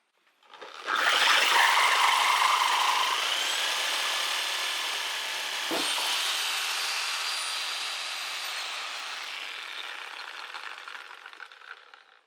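A Harbor Freight 6 amp reciprocating saw cuts through two screws, a loud, continuous rasping buzz that starts abruptly and runs steadily for about eleven seconds, close and alone with no talk.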